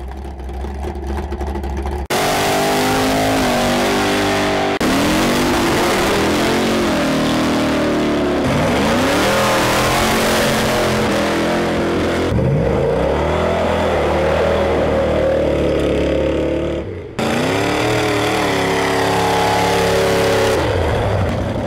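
Loud, roaring engines of mud trucks, one a Ford with a 557 big block, rev hard in repeated test hits at a raceway mud pit, surging and falling in long bursts with abrupt cuts between them.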